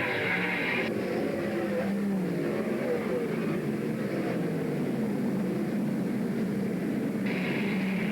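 World of Outlaws sprint cars racing down the straightaway at Central Washington State Raceway, a continuous roaring drone of engines from a distance, steady and loud throughout, with a PA commentator's voice faintly mixed in.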